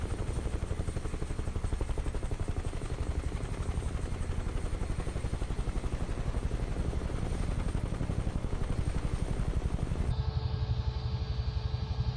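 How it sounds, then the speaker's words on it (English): A Huey helicopter in a multiplayer flight simulator game, its rotor thumping in a fast, steady beat under a turbine whine, loud and continuous, with the sound changing abruptly near the end. "I just love the sound. The sound of this helicopter"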